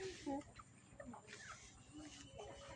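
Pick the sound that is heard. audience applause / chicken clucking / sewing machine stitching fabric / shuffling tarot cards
chicken clucking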